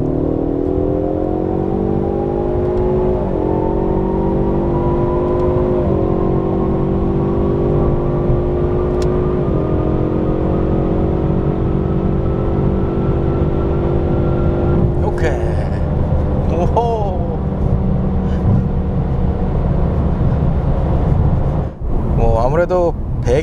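A Ford Mustang 5.0 GT accelerating through a tunnel, its V8 engine note rising steadily with gear-shift steps and a loud, continuous, reverberant roar that fills the whole stretch.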